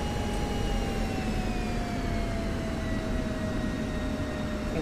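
A steady, loud engine drone from an F-16C jet on the runway in the flight simulator DCS World, a continuous roar with a slowly falling whine held for several seconds.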